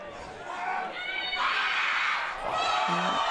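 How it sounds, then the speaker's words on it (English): A large crowd roars continuously in the distance at a football match, swelling and fading like stadium noise, with a commentator's voice faintly mixed in. "you can hear the crowd"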